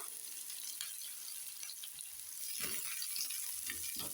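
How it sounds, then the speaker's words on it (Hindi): Sliced medium onion frying in hot oil in a frying pan, a steady close sizzle with soft crackles and stirring clatter growing busier toward the end. "इसको अब हम हल्का सा फ्राई कर लेंगे गोल्डन होने तक"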